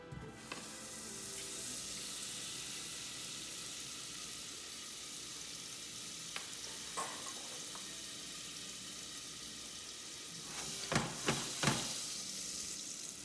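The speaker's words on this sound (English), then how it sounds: "I'll turn it on to medium heat, melting my butter." Butter melts and sizzles in a pan over medium heat, a faint continuous hiss close by, with a few soft clicks and light utensil knocks near the end.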